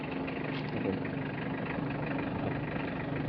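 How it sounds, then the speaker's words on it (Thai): A pickup dump truck engine with a hydraulic pump idles steadily nearby, a constant low rumbling drone with no revving, filling the whole short stretch. "ไม่ต้องเร่งเครื่องนะครับฟังเสียง ฟังเสียงเครื่องครับ"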